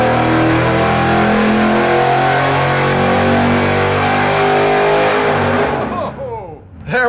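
A supercharged engine revs hard on a dyno in a loud, sustained roar with rising tones. Near the end it drops off abruptly as the belt slips, and the sound ends with a short sputtering wind-down.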